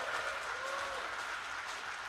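A crowd at a mass home-loan signing and key handover event with the Indonesian President applauds steadily, a dense wash of clapping that holds evenly at moderate loudness throughout.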